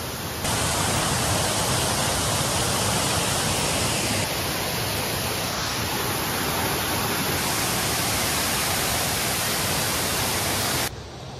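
A steady, loud roar of rushing water from the Sahasra Dhara waterfall, unbroken from start to end with no voices.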